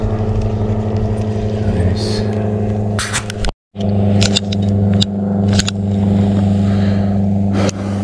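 A motorboat engine drones steadily on a lake during an October pike-fishing outing, a continuous low hum with a brief cutout and some clicks and handling noises close by.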